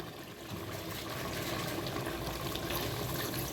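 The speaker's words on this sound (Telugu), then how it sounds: "ఇప్పుడు దీంట్లో మనం ఒక గ్లాస్ వాటర్ పోద్దాం" A glass of water poured into a simmering curry in a pot, a steady continuous splashing pour heard close and alone.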